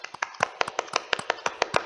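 Classroom applause for a student group after a presentation: a quick run of about a dozen sharp, close hand claps and taps at an uneven rhythm, fairly faint, with no talking.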